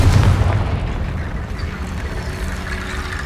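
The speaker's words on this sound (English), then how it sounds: "Confringo!" A heavy blast from the Confringo fire spell in the Hogwarts Legacy video game: a loud, deep boom at the start that rolls into a long, rumbling decay.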